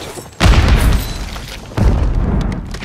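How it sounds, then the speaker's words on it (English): Grenade blasts in a video game: two heavy, booming explosions about a second and a half apart, loud and close, each with a rumbling tail. "He's trying to throw a grenade at me."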